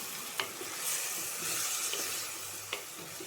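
A spoon stirs beef roast masala in a hot pan: steady close sizzling with a few sharp scraping taps against the pan as the mixture is turned.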